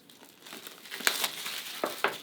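Packaging on a Poco F7 phone box is cut and pulled open, giving close crinkling plastic and paper rustle with a few sharper slits and tears.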